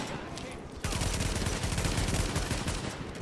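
Sustained automatic gunfire in The Division, bursting in abruptly after a quieter moment and continuing as dense, loud rapid shots throughout.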